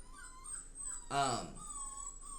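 A puppy lets out one brief high, wavering whimper in the middle, fairly faint and close, with quiet background noise before and after.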